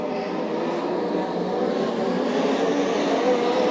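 USAC/CRA sprint cars race around a track, a dense, continuous engine roar from several cars at mid distance, steady in level without a clear pass-by.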